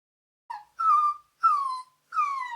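A puppy whines in three or four high, drawn-out cries separated by short pauses, close and clear with no other sound around.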